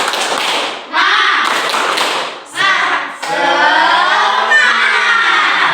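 A standing group of students performs a rhythmic chant-and-clap routine in a classroom, with loud bursts of claps and raised young voices close by, pausing briefly between phrases.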